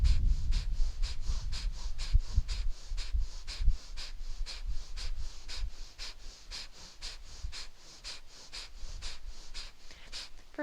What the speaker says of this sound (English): Notice how the inhale becomes passive and we're just focusing on this quick exhale.